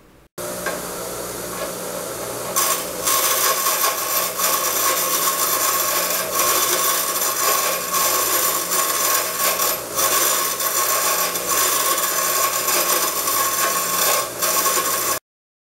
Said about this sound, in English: I've really cleaned the surface of this grinding wheel